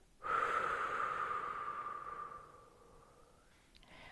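A single slow, deep exhale through the nose and mouth during a calming sleep breathing exercise, close and clear, lasting a couple of seconds and gradually fading, with no one talking.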